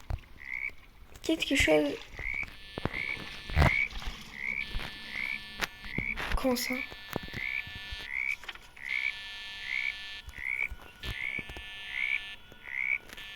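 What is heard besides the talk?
frog croaking in the video game Roblox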